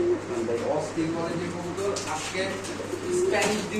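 Lahori pigeons at a pigeon market give low cooing calls close by, mixed into steady crowd noise and people talking over them.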